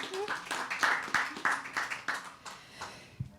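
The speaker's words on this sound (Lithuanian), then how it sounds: "taip aplodismentai Rugiliai." Audience applause at a Lithuanian youth panel discussion on emotional wellbeing and social media: a quick, fairly close run of rhythmic clapping that fades toward the end, with a voice talking over it.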